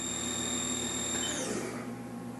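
A 2013 Haas TM-2P CNC mill with a Cat 40 spindle runs at 5,000 RPM, giving a steady, loud machine whine with a high tonal hum that shifts slightly partway through, with no voices.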